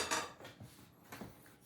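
A glazed ceramic pottery lid is handled while a kiln is unpacked, giving a few soft, close clinks and knocks against hard surfaces in a quiet room.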